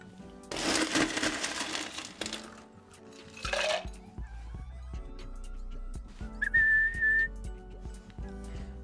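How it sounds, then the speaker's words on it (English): Ice scooped into a mixing glass for a Manhattan cocktail gives a loud clattering rattle lasting over a second, then a shorter second scoop, over soft background music with a brief whistling tone. "we're going to grab a moderate amount of ice"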